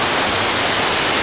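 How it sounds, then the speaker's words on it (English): A spectacular waterfall in a Phayao national park in Thailand roars as a dense, loud, steady rush of falling water. "And eventually the highlight is that spectacular waterfall."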